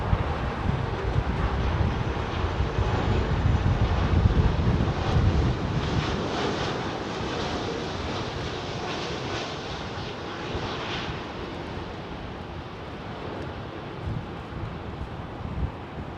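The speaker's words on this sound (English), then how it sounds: "Here's your MNG A330. Now this is the first freighter going into the cargo hub today." An MNG Airlines Airbus A330 freighter at Heathrow, arriving at the cargo hub, gives a steady broadband engine roar with wind buffeting the microphone, loudest early and then easing into a sustained rush as it passes, with no voices.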